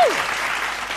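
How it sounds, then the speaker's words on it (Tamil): A church congregation claps hands during a Sunday service, a steady broadband patter of applause filling the second at close range, with a brief voice fragment at the very start. "கைத்தட்டும்போது"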